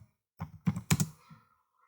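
A computer keyboard clatters with a handful of quick keystrokes in one short burst, close and alone against silence.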